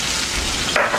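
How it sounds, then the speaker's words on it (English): A steady, hissing sizzle of bacon grease frying in a hot pan, close and constant for a brief moment. "You always want to hear that sizzle"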